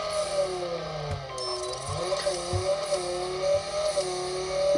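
A 2017 Ford GT engine in the racing game Racing Rivals holds a loud, sustained drone with steady rising tone, and faint clicks underneath.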